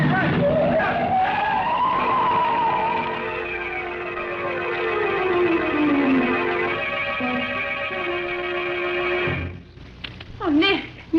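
A car skids with long, loud tire screeches in an old-time detective radio drama, the squeal sliding up and down for several seconds and then cutting off, followed by a brief rumbling thud.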